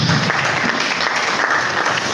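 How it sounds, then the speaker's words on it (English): An audience at a mentorship scheme graduation ceremony applauds the branch chairman, with loud, dense, steady clapping filling the whole moment and no speech over it. "A round of applause for the chairman"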